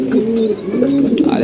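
Sapchila pigeons coo in a steady, close run of soft, throaty calls that overlap with no pause.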